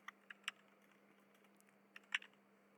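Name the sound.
typing code on a computer keyboard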